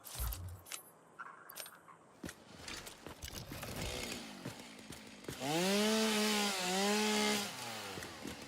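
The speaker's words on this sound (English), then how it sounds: "Because I don't like the chainsaw noise randomly happening." Chainsaw noise in the video game Satisfactory, starting after some scattered clatter and knocks, then rising into a loud, buzzing, wavering whine that revs up and down for about two seconds before fading back, with no talking.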